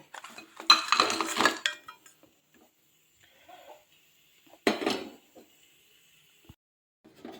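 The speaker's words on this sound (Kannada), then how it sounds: "ಇವಾಗ ಬೆಲ್ಲ ಹಾಕೊತಾ ಇದ್ದೀನಿ ಬೇರೆ ಪಾತ್ರೆಗೆ" Jaggery goes into a separate cooking vessel for sweet pongal, giving a busy burst of metallic clinks and clatter, a short pause with faint knocks, then a second brief clink.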